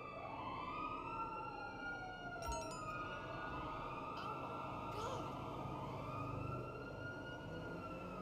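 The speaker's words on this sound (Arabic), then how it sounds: "عندك عندك الشرطة قدام" In the Grand Theft Auto V heist game, police sirens wail and sweep up and down in layered, rising and falling tones, steady and fairly near, with brief clicks and game noise underneath.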